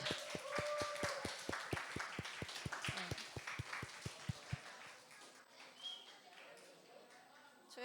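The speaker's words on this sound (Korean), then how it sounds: "다들 한번 박수 한번" Elementary-age children at a church Sunday school service clap together in a rhythmic, evenly spaced beat to welcome a new classmate, the claps stopping partway through as a voice talks over the room.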